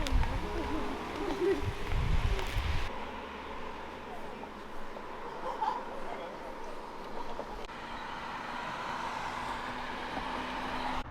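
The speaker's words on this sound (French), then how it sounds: "maintenant il y a trop de voitures, il y a trop de bruit" Passing car traffic on a road, a steady broadband roar of engines and tires continuing for several seconds, louder at the start and then settling into a constant hum, with people talking over it.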